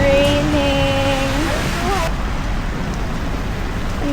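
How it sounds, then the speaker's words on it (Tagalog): Rain falling at Tsukiji Outer Market in Tokyo, a loud, dense and steady hiss throughout, with a voice and tonal sounds in the first half. "It's raining."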